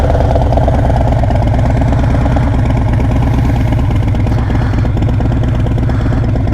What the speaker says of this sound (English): The idle sounds much more prominent, the lope.